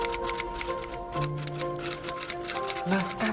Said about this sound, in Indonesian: Bung Karno meminta Sayuto Melik mengetik naskah proklamasi